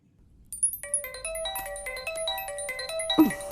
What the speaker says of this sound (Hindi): फोन कब से बज रहा है, उठा क्यों नहीं रही है?